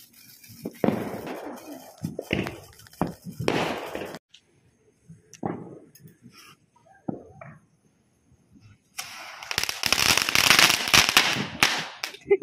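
Diwali firecrackers burst in sharp, loud cracks at intervals outdoors. A dense crackling barrage follows near the end, with brief voices in the background.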